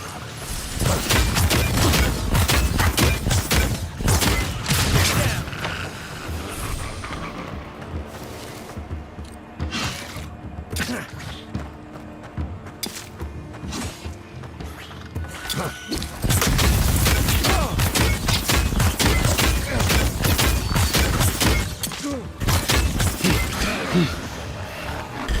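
Dense, heavy gunfire from enemies in the fantasy game Avowed, a loud barrage of rapid shots and crashing impacts that eases mid-way and then surges again.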